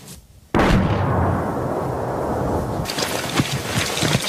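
Gunfire erupts as Taliban fighters spring an ambush from hills overlooking an Afghan village: a brief quiet gives way abruptly to a loud, continuous roar of shooting and crackling blasts that never lets up.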